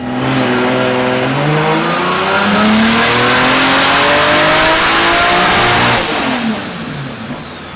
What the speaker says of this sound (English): the car revs like infinitely better